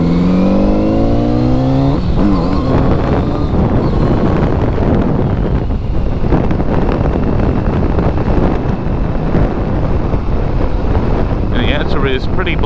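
A Kawasaki Z900RS motorcycle accelerates hard from 40 to 100 on a road, its engine note rising through a gear change under heavy wind rush at the microphone.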